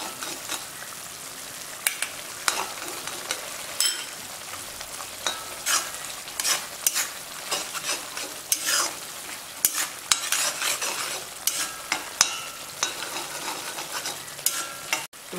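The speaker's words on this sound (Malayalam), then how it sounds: "ഇപ്പം നന്നായിട്ട് തിളച്ചിട്ടുണ്ട്." A spicy beef dry roast masala bubbles hard in a pan with a continuous crackling sizzle. Irregular pops and spatters keep breaking through the hiss, with no voices.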